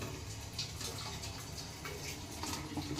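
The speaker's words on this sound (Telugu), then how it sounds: "ఇలా నీళ్ళు అనేవి మరుగుతూ ఉన్నాయి." Water boiling in an idli steamer, a steady bubbling and gurgling wash that runs continuously at moderate level throughout.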